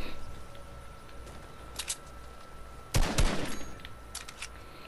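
Video game gunshots crack out in a few short bursts, a scattered shot or two and then a louder close volley, over a faint steady background tone.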